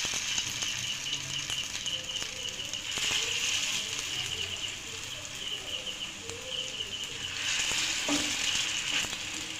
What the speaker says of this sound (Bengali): এর মধ্যে দিয়ে দিলাম